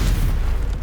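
A Stupefy spell is cast in the Hogwarts Legacy video game as a short, loud booming blast with a deep low-end impact, heard alone and lasting under a second.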